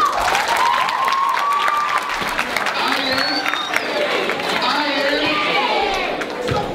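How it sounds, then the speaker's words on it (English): Students and audience at a middle school leadership assembly clap and cheer for a girl named Haley, a busy crowd roar with whoops and voices mixed in, while a speaker's voice carries over the noise. "Give Haley a round of applause."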